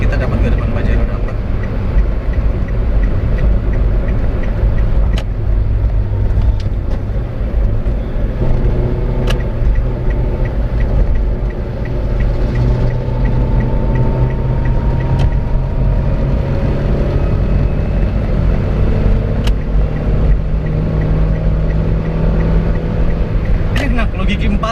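A 2018 Toyota Calya E manual car revs hard in fourth gear on a toll road, a steady loud engine and road drone filling the cabin throughout while people talk over it.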